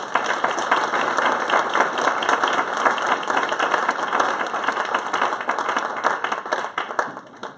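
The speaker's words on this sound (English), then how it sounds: "So yeah, round of applause please for Sunny." Sustained crowd applause for keynote speaker Sunny Hundal at a street paper summit, dense clapping from many hands at a steady level with no speech over it.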